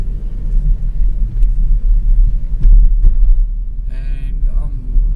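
Steady low road rumble of a car driving out of town, picked up from inside by a Wolfang GA420 dash cam, a constant engine and tyre drone with a brief faint chirp near the end and no voices.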